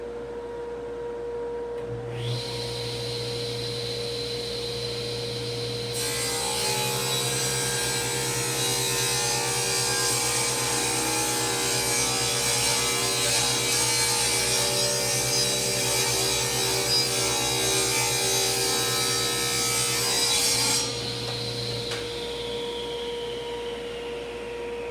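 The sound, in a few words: saw cutting a wide wooden board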